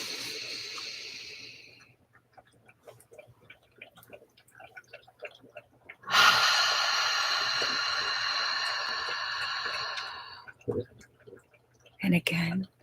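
Slow, deep breaths during a guided meditation: a long hissing inhale, a pause, then a loud sustained exhale, set among quiet soft sounds and ending with a brief breathy burst.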